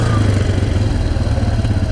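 Yamaha Grizzly ATV engine running on a dusty trail, a loud, close, steady mid-pitched rumble that holds throughout without pauses.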